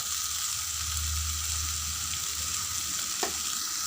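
Steady, close sizzling of spices (chili powder and chicken masala) frying in a hot pan for a potato fry, a continuous crackling hiss with a brief scrape near the end.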